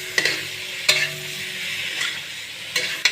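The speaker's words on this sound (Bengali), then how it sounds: "এবার আলুগুলো দেওয়ার পর এটাকে একটু নেড়ে নেব মশলার মধ্যে" Long-cut potatoes for a rui fish curry are stirred into spices in a frying pan: a handful of sharp spatula scrapes ring out over a low, steady sizzle, close and clear, with no talking.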